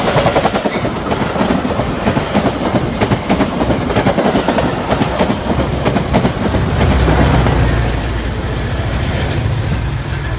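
A Metra commuter train rumbles and clatters steadily along the rails at Riverside, Illinois, with rhythmic clickety-clack, loud and close, with a low rumble swelling near the end.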